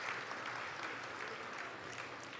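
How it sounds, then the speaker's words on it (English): Audience applause following a choir piece at a choral festival, a faint, distant wash of clapping that stays even and continuous throughout the short stretch. "I would just like to give a round of applause for that piece"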